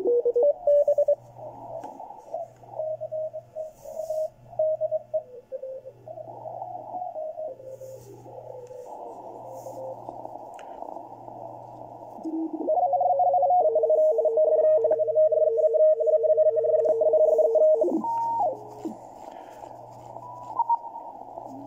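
Malahit clone SDR receiver output with noise reduction engaged, a quiet hissless tone band carrying warbling signals, steady pulsed beeps repeating in the background, with no voices.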